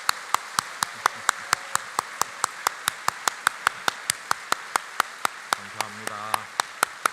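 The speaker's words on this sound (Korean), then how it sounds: "우리 뜨거운 박수를 한번 더 하도록" A church congregation at Yeongnak Church's special dawn prayer service claps together in a brisk, even rhythm, with sharp regular beats throughout and a faint murmur in the background.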